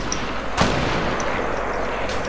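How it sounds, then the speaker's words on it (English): A single sharp gunshot rings out in an online shooter game, a brief broadband crack over a steady noisy game backdrop, fairly close and loud against otherwise continuous ambience. "I'm literally getting shot down over here"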